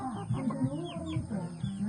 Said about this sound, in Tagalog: Oh, ang galing magpakain ng manok ah.